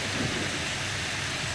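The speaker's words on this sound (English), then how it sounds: "You're outside, it's raining" Rain falling during a video game thunderstorm makes a steady, dense hiss with a low rumble underneath, holding at an even level throughout without any voices.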